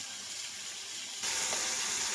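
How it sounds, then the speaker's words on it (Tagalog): Water poured into a cooking pot of tilapia and whole peppercorns for a Filipino fish soup, a steady broadband rush that starts abruptly partway through and continues loud and close. "So ngayon, maglagay na po tayo ng tubig."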